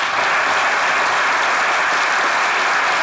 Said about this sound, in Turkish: Devam ediyor alkışlarınızla.